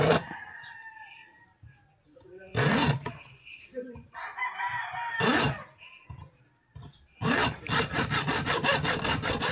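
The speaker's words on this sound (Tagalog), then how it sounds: "Lalagarian lang natin to" Hand saw cutting through a stuck part of a noisy electric fan, rough rasping strokes in several bursts, the last a fast even run of close strokes, loud and near with pauses between.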